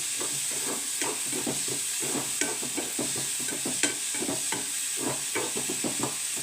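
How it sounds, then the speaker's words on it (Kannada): Half a spoon of turmeric powder fries in hot oil in a pan, giving a steady close sizzle broken by repeated scraping and stirring strokes, with no talk. "ಒಂದು ಅರ್ಧ ಸ್ಪೂನ್ ಅರಿಶಿನ ಪುಡಿ ಹಾಕ್ತಾಯಿದ್ದೀನಿ. ತುಂಬ ಚೆನ್ನಾಗಿ ಫ್ರೈ ಆಗಲಿ."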